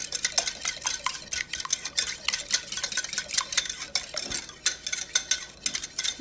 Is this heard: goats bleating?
no